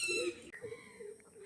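Andhra pigeons, including a red-headed pair, give short, soft throaty coos close by, one call followed after a brief pause by quieter ones.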